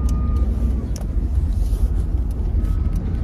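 Heavy rumbling idle of a Peterbilt 379 truck backing out of a shop, a steady deep diesel drone close by with a constant low-end roar, a faint whine and brief knocks.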